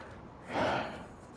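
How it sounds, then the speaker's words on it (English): A single yawn, a swelling breathy exhale that peaks and fades over about a second, close and fairly quiet, from someone commentating a Super Mega Baseball 4 league game. "Excuse me for the yawn there"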